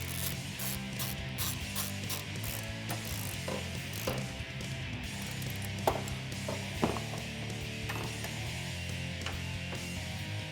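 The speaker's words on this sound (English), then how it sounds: "tighten those both up with that same 4mm Allen socket and same 10mm wrench" Repeated metallic clicking of a ratchet with a 4mm Allen socket, alongside a 10mm wrench, as bolts are tightened on a Jeep Wrangler JK hood strut install, a continuous rapid ratcheting with a few sharper knocks.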